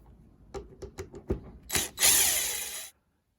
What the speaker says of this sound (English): we're going to go ahead and take these four screws off for the bracing here